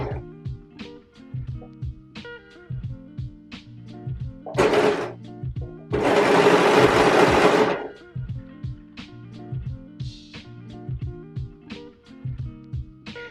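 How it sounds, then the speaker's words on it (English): Sewing machine stitching along a dress seam, heard as two bursts of dense whirring, a short one then a longer steady run of about two seconds, over a background of soft tapping and handling sounds. "now I'm going to go in and sew along this seam"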